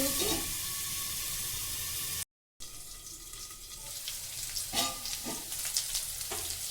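Greens cooking in a pan over a high flame, with a steady broadband sizzle and frying hiss throughout, a short dropout partway, and a few louder spatters near the end; no talking.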